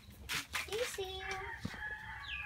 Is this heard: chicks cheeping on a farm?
yes